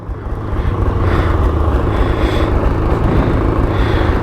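An Arctic Cat 858 snowmobile engine runs steadily and loudly, a sustained rumbling drone with no talk over it.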